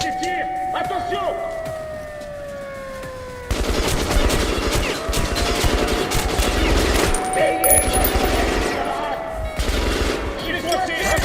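Gunfire bursts in the post-apocalyptic shooter Metro Last Light Redux during an escape from a Russian base, loud and dense from midway, with a wailing siren-like tone and game sounds throughout.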